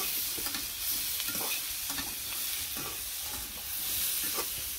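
Curry being sautéed in a pan, a steady broadband sizzle with scattered spatula stirs and scrapes running throughout, close and continuous with no voices.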